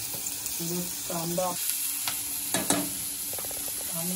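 Onion sizzles in hot oil in a home kitchen, a soft steady frying hiss broken by a few sharp clicks of a utensil, with some faint tonal household noise in the background.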